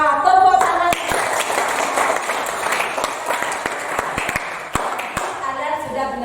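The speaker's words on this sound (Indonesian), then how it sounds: "Wah, tepuk tangan." A classroom of students bursts into clapping, a dense wash of applause with sharp individual claps standing out, starting after a brief moment and continuing steadily to the end.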